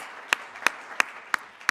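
Sparse, evenly spaced claps ring out, about five sharp hand claps in steady rhythm, close and clear with no voices over them.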